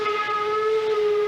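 A steam train whistle sounds on the Southern Railway in India's Deccan, a loud, steady, tonal blast held throughout with no talk over it.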